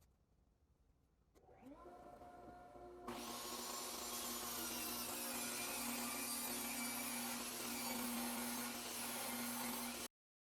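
A table saw motor spins up from near silence, then the blade rips through wood held by a Rockler thin rip jig acting as a featherboard, a sustained whining cut for several seconds before it stops abruptly.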